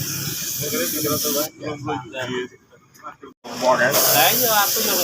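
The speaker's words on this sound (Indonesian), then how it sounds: "Nah, setelah seperti ini kita semproti clear semuanya." Spray gun hiss as clear coat lacquer goes onto freshly painted motorcycle parts such as the rear handle, in two steady bursts with a brief break between, while someone talks over it.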